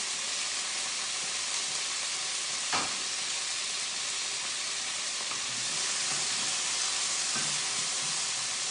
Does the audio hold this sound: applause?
no